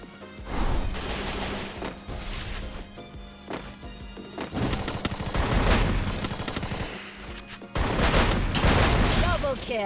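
Bursts of rapid automatic gunfire in the video game Free Fire rattle in several volleys with short pauses between them, loud and close, with a voice talking faintly underneath.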